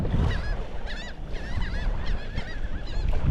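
Several geese honk repeatedly in overlapping calls, loud and close, over a steady bed of wind and water noise while they feed over fish.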